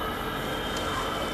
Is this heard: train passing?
yes